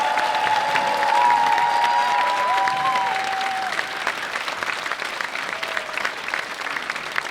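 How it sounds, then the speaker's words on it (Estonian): A school anniversary concert crowd claps loudly for the performers and backstage crew, a dense round of applause with some cheering that stays strong and then slowly thins toward the end. "Suur aplaus kõigile."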